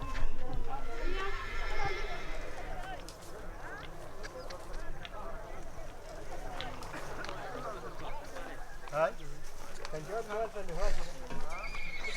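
Horses in the Sahel neighing loudly with a drawn-out whinny, then hooves clip-clopping and shuffling nearby, while a narrator speaks over much of it.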